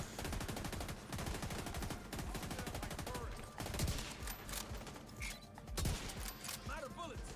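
Sustained automatic gunfire in The Division 2 video game, a dense, continuous rattle of rapid shots with bursts of heavier impacts, mixed with faint game effects and talk underneath.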